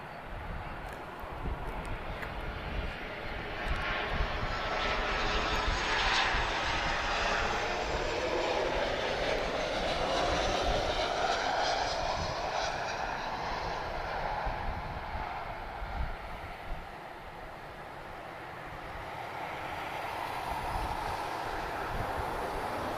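Jet airliner engines roar steadily at Lisbon Airport, a loud sustained rumble with a broad whine that rises and swells through the middle before easing slightly, with no talk over it.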